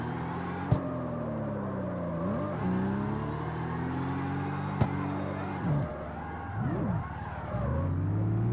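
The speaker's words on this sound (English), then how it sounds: "It sounds like a proper race car." A BMW M2 built as a drift race car in the video game CarX Street, its engine revving up and down in loud swells with tire skids and a couple of sharp clicks, no talking.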